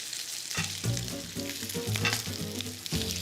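Bacon sizzles and crackles in a frying pan, with a steady loud frying hiss broken by a few knocks as the strips are flipped, close by and with no talk.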